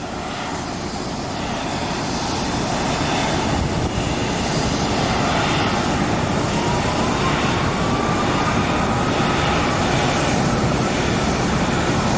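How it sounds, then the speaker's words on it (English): A Southwest airliner taxis at night at Phoenix Sky Harbor International Airport, its engines giving a steady, loud, continuous roar that holds level throughout with no talk. "Southwest usually taxis pretty fast."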